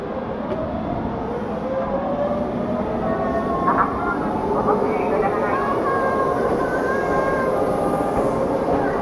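A Tobu 100 series Spacia Kinu limited express bound for Kinugawa Onsen pulls out of a station, a steady loud rumble with rising motor whine and wheel squeals under a station announcement.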